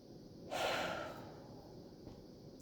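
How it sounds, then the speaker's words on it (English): A single deep breath drawn in and let out slowly, close and soft against a quiet background, with a brief sharper sound at the very end. "I want you to take a deep breath"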